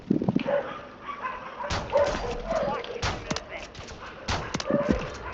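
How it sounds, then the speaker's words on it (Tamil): A dog barking in the video game Warzone 3 Plunder mode: several yips and whimpering barks, moderately close, scattered across the clip and mixed with game effects and brief voices. "ஒரே நாய் சத்தம் கேக்குது"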